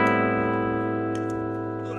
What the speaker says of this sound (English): So there's a little distortion. You can hear how the sound changes.